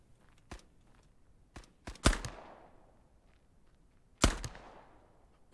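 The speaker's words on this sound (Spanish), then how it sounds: "Dos tiros de lejos." Gunshots fired at long range in the video game Resolve, with English handguns: several sharp distant reports, two of them the loudest with trailing echoes, spaced irregularly across a quiet background.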